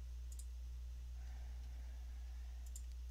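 Mouse clicks while editing a WordPress page, a couple of faint, sharp ticks at the start and near the end over a steady low hum, with no one speaking.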